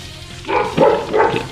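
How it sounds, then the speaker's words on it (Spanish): Dogs barking in the video game Dragon Ball Xenoverse, a few bright yaps rising over a low steady background hum, moderately loud and close. "Malditos perros, la ladra desde arriba."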